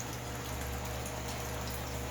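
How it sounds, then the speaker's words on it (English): Water pouring into an aquaponic media bed in an indoor cannabis flower room, a faint, steady hissing gush with a low pump hum beneath it, continuous and even throughout. "You can see the water coming up in the bed."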